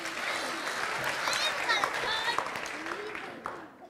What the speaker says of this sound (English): Round of applause for our kids